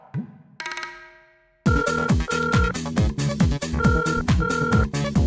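A household telephone rings with a musical ringtone, a short chime followed by a loud, rhythmic looping melody with a steady beat that repeats close by.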